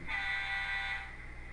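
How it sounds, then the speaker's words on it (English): A single sustained electronic horn tone from a model train locomotive's sound decoder sounds for about a second, thin and reedy, then stops abruptly. "got horn"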